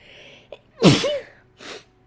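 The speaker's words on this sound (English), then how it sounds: "I gotta sneeze." A single sharp sneeze, preceded by a short intake of breath and followed by a brief exhale, close to the microphone.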